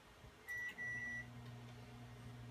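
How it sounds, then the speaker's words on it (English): A kitchen microwave oven hums quietly at low volume, and two short electronic beeps ring out near the start. "Yeah, microwave."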